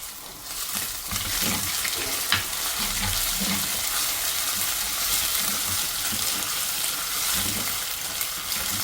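Shallots, ginger and garlic frying in very hot oil make a dense, continuous sizzle, broken by a few soft stirring scrapes.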